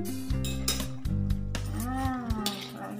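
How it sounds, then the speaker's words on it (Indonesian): A spatula stirs a bitter melon stir-fry with fried tempeh and fried anchovies in a pan, with scraping and clinking of the utensil against the pan, under a speaking voice. "Nah, lalu kita aduk rata seperti ini"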